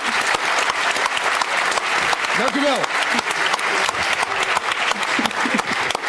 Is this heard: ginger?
no